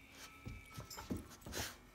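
An excited puppy whimpers and snuffles up close, with short breathy whines and pants coming in irregular bursts.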